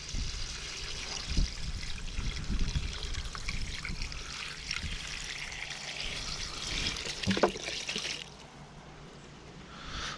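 Distilled water pours and trickles over miscanthus cuttings in a container, a continuous close splashing stream with a couple of sharper splashes before it tapers off near the end.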